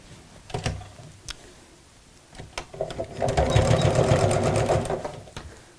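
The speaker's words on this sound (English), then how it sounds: "And again, just sew that in place. And do a few backward stitches at the top again," Sewing machine stitching the side seam of a fabric craft bag, a few short taps and then a steady, close, fast-running burst of stitching that stops near the end.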